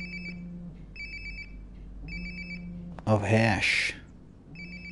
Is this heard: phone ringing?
yes